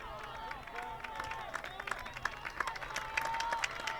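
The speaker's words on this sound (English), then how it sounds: "The crowd really egging him on" A crowd at an outdoor varsity high school track meet, Norwood vs. Norton, cheers and claps steadily for a runner in the final stretch, a distant, continuous roar with scattered shouts that swells slightly toward the end.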